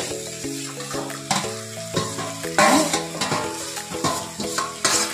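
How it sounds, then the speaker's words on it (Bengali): Potatoes pre-fried with salt and turmeric go into a hot frying pan with bursts of sizzling and stirring scrapes, while background music plays throughout. "তাহলে আমি এবার আগে থাকতে নুন হলুদ দিয়ে ভেজে রাখা আলুগুলো দিয়ে দিচ্ছি।"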